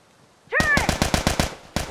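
Turret gunfire in The Last of Us erupts as a loud, close burst of rapid automatic shots, about eight sharp cracks in quick succession, with a short pause before one more shot.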